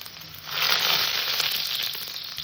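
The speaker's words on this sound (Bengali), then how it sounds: "রসুনটাকে আমি সুন্দর করে একটু ভেজে নেব লাল লাল করে" Garlic fries in hot oil in a pan, a soft, steady sizzle that swells after a brief quiet start and holds on evenly, with no talk.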